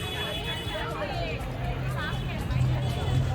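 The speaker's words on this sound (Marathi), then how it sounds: "तर गर्दी बघू शकता तुम्ही, किती जास्त गर्दी आहे." Crowd hubbub at a busy village gathering, a dense babble of many voices with scattered shouts, heard close around a nearby talker.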